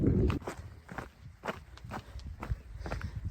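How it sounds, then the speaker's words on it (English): Footsteps crunching along a rocky hiking trail on the Kinder Scout route, a steady walking rhythm of close, crisp steps heard alone in a quiet outdoor setting. "When the wind drops, the silence is almost deafening, except for the sound of my footsteps, which is quite hypnotic"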